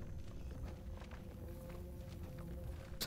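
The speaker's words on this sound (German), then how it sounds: "Ich höre Schritte." Soft, steady footsteps in the video game Fallout 76, a quiet run of even treads over a low ambient hum, with no talking, ending in a brief louder knock.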